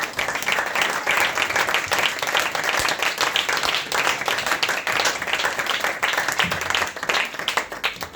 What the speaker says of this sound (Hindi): आप इसके लिए जरूर तालियां बजाइए